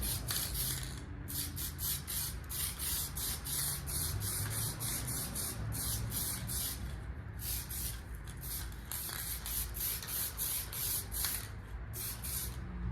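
Rapid bursts of spray paint hiss over engine parts from a modified 351 in cold night air, applied in light coats as repeated short sprays with brief gaps between them, loud and close.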